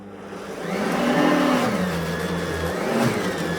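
An Oreck HEPA Swivel upright vacuum cleaner labours on deep pile carpet, its motor whine dipping and rising as the brush bar slows under load, close and steady with no voices.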